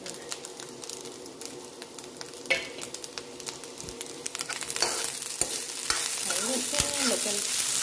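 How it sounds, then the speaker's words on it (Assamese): Cooked rice stir-fried in a pan for local-style fried rice, a steady sizzle with scraping and stirring clatter that grows busier and louder toward the end, no talking. "ভাতখিনি দি দিছোঁ ফ্ৰাই হৈ গৈছে"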